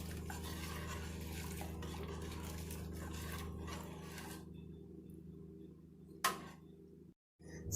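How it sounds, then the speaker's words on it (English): Spoon scraping and stirring sugar-pectin mix into cinnamon candy apple jelly in a pot, a soft continuous rasping that stops partway, then one sharp clink. "pectin mix. Stir that in. Let that dissolve."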